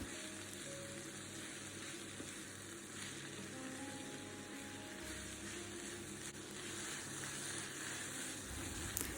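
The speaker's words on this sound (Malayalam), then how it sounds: "ഇനി ഇതിലേക്ക് നമുക്ക് രണ്ട് സവാള അരിഞ്ഞ് ചേർക്കാം ഒരു അര ടീസ്പൂൺ ഉപ്പും കൂടി ചേർക്കുക ഈ സമയത്ത് തന്നെ എന്നിട്ട് നന്നായിട്ടൊന്ന് വഴറ്റിയെടുക്കാം" Sliced onions with salt sauté in a pan for restaurant-style vegetable kurma, giving a steady, fairly quiet frying sizzle that runs throughout with faint stirring scrapes.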